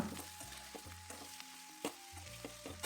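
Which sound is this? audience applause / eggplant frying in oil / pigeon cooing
eggplant frying in oil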